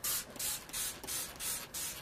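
A spray bottle of water and vinegar cleaner gives about five quick, hissing spritzes in an even rhythm, close and fairly quiet.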